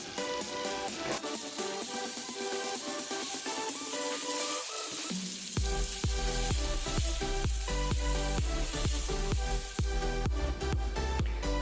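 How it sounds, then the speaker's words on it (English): Tomatoes fry with a pinch of salt in a pan for Kolkata-style chana ghugni, crackling and sizzling steadily at close range, with sharp pops and stirring knocks growing busier partway through. "Fry this until the tomatoes become soft."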